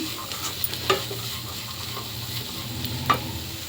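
Alasanda chaat masala sizzling in a pan while a spoon stirs it, a steady close frying hiss with a couple of soft scraping knocks of the utensil against the pan.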